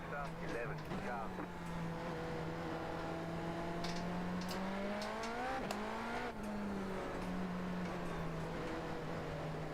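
Race cars at Road Atlanta run as a steady engine drone with a shifting pitch, one car sounding close and continuous, with brief dips and a rising note near the middle as another car passes.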